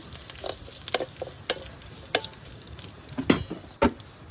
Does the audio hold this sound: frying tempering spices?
yes